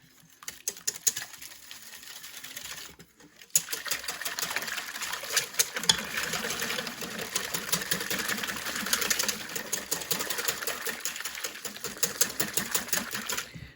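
Sourdough pancake batter of melted butter, maple syrup and an egg is beaten rapidly in a bowl, producing a quick, dense run of clicking taps that continues after a short pause, with no talk.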